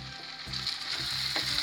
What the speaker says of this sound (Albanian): i shtojmë dhe specat, do t'i kaurdisim sa specat të bjen nga volumi